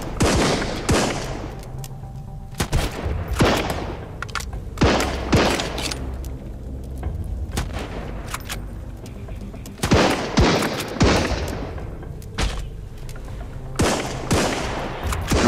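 Repeated gunfire in the survival video game Sunkenland: loud, close bursts and single shots in irregular clusters, sharp cracks with booming tails, sounding throughout with brief pauses between volleys.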